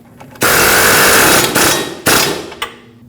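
A power tool tightens the lower ball joint mounting nut on a 2005-2021 Nissan Frontier 2WD, with loud close rattling impact bursts: one long run followed by two shorter ones.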